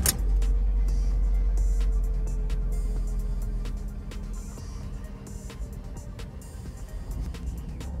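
Car engine running after its electronic throttle body was cleaned, a steady low idle hum with a faint tonal whine and a small dip in level midway, heard alone without talk.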